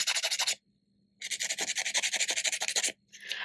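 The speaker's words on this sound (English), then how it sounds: "we're just going to do a filing over the whole thing" Rapid rasping strokes of a nail file shaping a polygel 3-D heart nail, one short burst then a longer run of quick back-and-forth scrapes after a brief pause, close and fairly loud.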